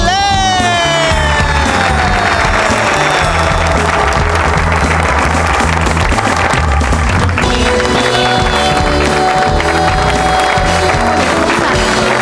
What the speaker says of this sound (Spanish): Un aplauso para recibir a Mariana